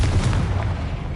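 Confringo fire spell blast in the video game Hogwarts Legacy, a booming explosive burst with heavy low rumble lasting about a second, loud and close.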